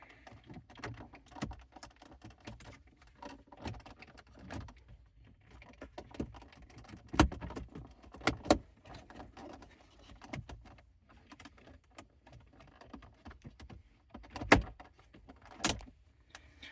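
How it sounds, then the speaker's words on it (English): Plastic interior trim panel on a Lexus TX being slid over the gear shifter and pivoted into place, giving scattered soft rubs, taps and a few sharper clicks and knocks close by, with no talking. "we carefully need to slide the panel over the shifter and then pivot it back into place"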